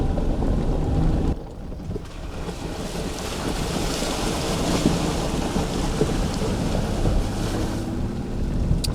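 Jeep Gladiator splashing through a creek and mud on a winter trail northwest of Zion near St. George, Utah; a steady, loud rush of churning water and wind noise fills the whole stretch, with a brief dip early on.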